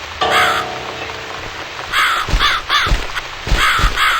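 A crow in The Cat Lady video game caws harshly and close by, one long call, then a run of repeated raspy caws in an uneven rhythm over a dark ambient backdrop.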